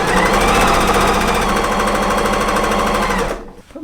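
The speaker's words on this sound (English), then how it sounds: "So I'm going to stitch on a 1/4 inch edge of that fabric." Sewing machine stitching a quarter-inch seam along the edge of quilting fabric for a table runner, a fast, even mechanical chatter up close that runs for over three seconds before stopping abruptly.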